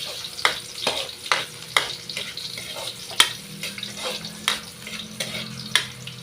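Garlic sizzles in a pan with ginger, an oily crackle running under a steady rhythm of sharp spatula taps and scrapes, about one strike every half second, close and moderately loud.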